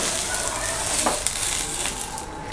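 Oil sizzling on a hot dosa pan as it is rubbed with a cut onion, a continuous close crackle with scraping strokes and a couple of light clicks.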